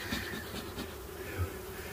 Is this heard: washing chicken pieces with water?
no